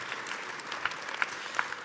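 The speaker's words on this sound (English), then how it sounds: "give yourself an applause" Audience applause at DrupalCon Atlanta 2025 keynote, a soft, even wash of many hands clapping in a large hall, heard from a distance with a few sharper claps standing out.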